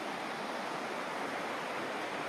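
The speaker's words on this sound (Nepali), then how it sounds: "यो चाहिँ कर्णाली नदी" The Karnali river rushing past, a steady broadband roar of flowing water that fills the scene without pause or voices.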